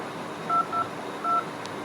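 Three short electronic keypad tones sound in quick succession, clear beeps over faint background hiss.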